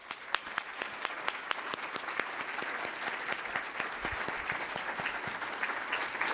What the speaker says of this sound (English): big old round of applause to today's speakers, Purba Majumder, Betty Collins, and Chevonne